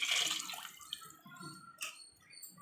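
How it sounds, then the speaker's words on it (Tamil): Water poured into a cooking pot for chicken biryani, about two cups, splashing loudly at first and then settling into quieter trickling and drips over a few seconds. "இந்த அளவு 2 கப்பு தண்ணி ஊற்ற போகிறேன்"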